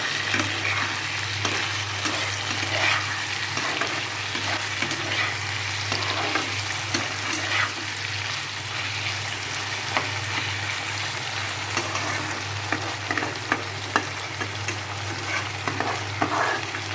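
Food sautéing in a pan gives a continuous, moderately loud sizzle with repeated scraping and tapping of a stirring utensil, over a steady low hum in the background.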